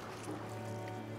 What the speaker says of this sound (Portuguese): Vamos remar, rema, rema.